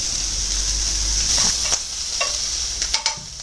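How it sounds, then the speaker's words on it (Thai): Bacon fries in a pan with little added oil, a steady close sizzle overlaid by spatula stirring and scraping, with several quick clinks and pops. "ตอนนี้เราก็ทอดเบคอนไปก่อนนะคะเพื่อนๆเราจะไม่ใส่น้ำมันเยอะนะคะ"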